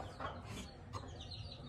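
Hens cluck inside a backyard coop, giving a few short, close clucks over a low, steady background hum, with no one talking.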